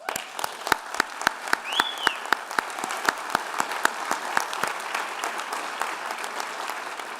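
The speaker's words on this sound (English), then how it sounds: "Let's give them applause." Sustained applause from the audience at a university chancellor investiture ceremony, with many hands clapping in a brisk, even rhythm and a brief whistle-like tone rising through it early on.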